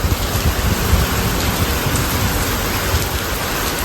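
Heavy rain pours steadily in Gujarat, a dense, even hiss of downpour drumming on surfaces nearby, with no voices heard.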